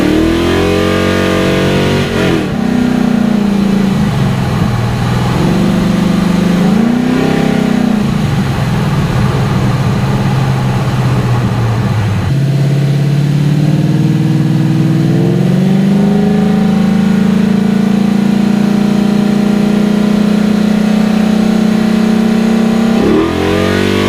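A car engine revs hard and loud in long sustained pulls that rise and fall, stumbling and cutting out as fuel and timing drop, recorded close by an onboard camera near a fuel pressure gauge, with no talk.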